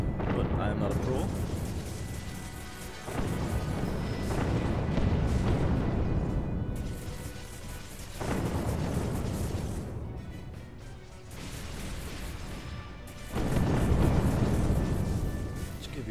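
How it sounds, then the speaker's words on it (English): Spaceship explosions in the Sins of a Solar Empire strategy game: heavy, rumbling booms swell and roll on one after another, about four big bursts with dense low roar filling the gaps. "A close up here of what an explosion looks like. That's an explosion."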